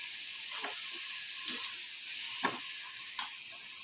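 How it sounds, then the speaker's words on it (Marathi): Chopped vegetables for momos sauté in hot oil with a constant soft sizzle. A few sharp scrapes and clacks of a spoon stirring the pan cut through at intervals. "ही भाजी आपली छान असं तेलात परतायची।"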